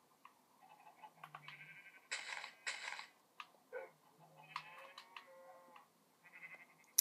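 Sheep bleats in the Minecraft game on Xbox, heard as short, faint calls among quiet clicking and ratcheting game sounds, with sparse bursts and pauses and no talking.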